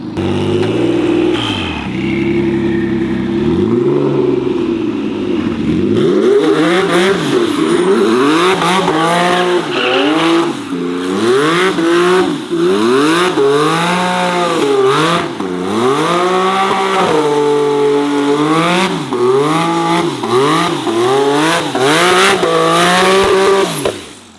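A car accelerates hard and revs through its gears, climbing again and again in loud, close, sweeping engine surges with no talking over them.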